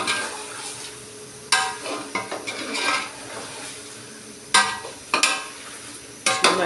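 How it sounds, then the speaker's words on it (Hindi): Garlic-ginger paste sizzles softly in a pot while a spoon stirs and scrapes, giving several sharp metallic clanks against the pot's sides. "अभी हम डालेंगे लहसुन अदरक का पेस्ट।"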